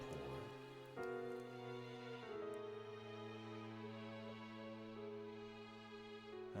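Steady rain pours in the visual novel game Chaos;Head Noah, a soft continuous patter mixed with sustained, layered musical tones that shift in pitch every second or two, at a fairly low level with no voices.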